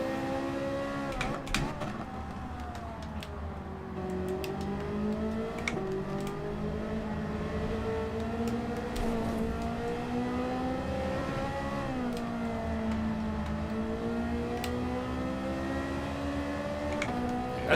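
Race car engines in Gran Turismo 7 during a Group 4 daily race at Grand Valley Highway, a steady loud drone of engine tones rising and falling continuously through the whole stretch, with no talk over it.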